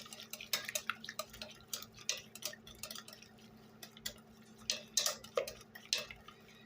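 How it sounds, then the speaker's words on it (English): Utensil stirring a tempered mixture in a kitchen bowl, giving a run of light, irregular clinks and scrapes that come close and fairly quiet, with no talking. "I'm going to stir, make sure there's no mistakes."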